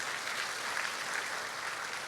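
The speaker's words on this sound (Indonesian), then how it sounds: "Tepuk tangan buat Tuhan Yesus." Church congregation applauding during an onsite worship service, a soft, even wash of distant clapping with no break.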